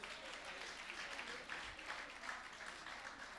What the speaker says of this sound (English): he deserves a better round of applause